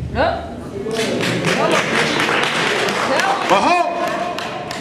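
Audience clapping at a talk in St. Louis, a dense spread of claps with a thud or two, voices talking over it throughout.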